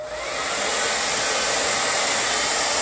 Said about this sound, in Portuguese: Pega o secador de cabelo, coloca no frio.